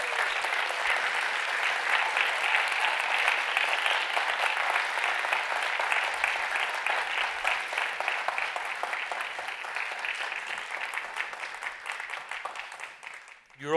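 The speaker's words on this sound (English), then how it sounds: "Give them a big round of applause." Sustained applause from a conference audience welcoming five award finalists to the stage, a thick, even wash of clapping that holds steady for over ten seconds before slowly thinning out.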